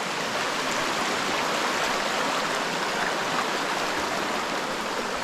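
Steady broadband rush of river water flowing continuously, full and close, with no speech over the constant churning flow.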